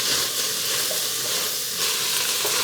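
Hamburger soup sizzles and hisses steadily in a hot pot while being stirred, a dense close frying sound with no voices.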